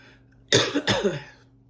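Two quick, harsh coughs close up, one right after the other, trailing off into a rough breath.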